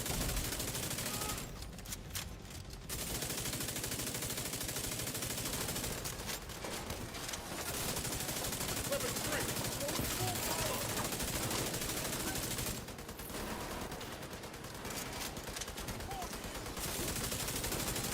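Rapid, sustained video game gunfire, dense overlapping automatic shots and volleys, loud and continuous with brief lulls.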